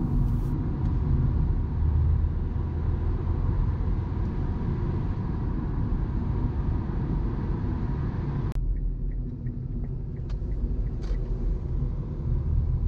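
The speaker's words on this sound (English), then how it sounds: "we accelerate up to speed promptly and merge into the dual carriageway." A car accelerating to merge onto a dual carriageway, a steady loud engine and road rumble heard from inside the cabin, with a brief click and slight dip partway through before the drone continues.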